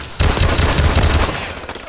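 Rapid automatic gunfire from a weapon in Call of Duty Advanced Warfare multiplayer on the Skyrise map, a dense, loud burst of shots with heavy low-end thump running nearly two seconds without pause.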